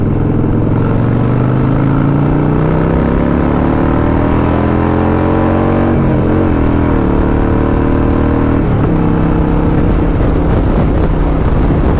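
A Harley motorcycle accelerating to overtake on the road, its engine droning loud and close, with a steadily rising pitch as it revs up and pulls past.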